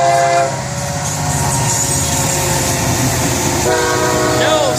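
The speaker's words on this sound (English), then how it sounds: "Look at this train." FEC freight train passing close by, a loud rumbling roll of cars with its horn sounding in sustained tones at the start and again near the end.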